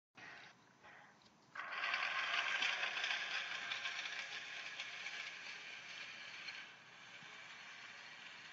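Two linked DC motors drive a small robot, giving a faint whirring hum and gear rattle that starts softly, jumps louder for several seconds, then eases off.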